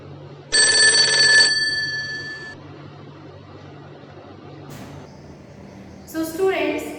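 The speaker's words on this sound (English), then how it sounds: "the hammer hits against the gong," An electric bell's hammer striking its gong gives a bright, loud ringing burst of about one second that fades out. Later come scattered fainter metallic clicks and tones.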